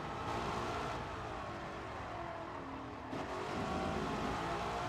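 A 1955 Mercedes Formula 1 racing car driven in a video game: a steady, loud engine drone with shifting revs and a brief dip, no talk over it.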